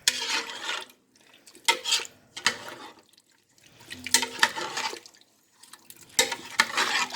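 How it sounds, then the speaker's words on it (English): A spoon stirs homemade vegetable soup in a pot, giving wet, sloshing scrapes in short irregular bursts separated by quiet gaps, close and fairly soft. "And we're going to stir"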